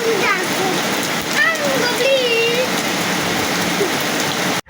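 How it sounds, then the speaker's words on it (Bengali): Rain patters steadily in the background while someone speaks in a rising, sing-song voice over it. "তোমরাও চাইলে এভাবে বৃষ্টিতে ভিজতে পারো"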